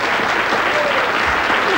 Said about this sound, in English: Thank you very much, and give them a big round of applause.